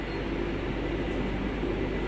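Inside a moving Vande Bharat Express train, a steady loud rumble of wheels and cabin noise runs unchanged throughout, with no voices.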